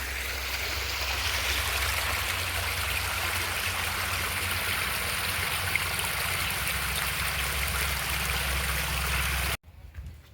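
Water pours into a well from a pump that has just been switched on. The rushing, gurgling flow is loud and continuous, then cuts off abruptly near the end.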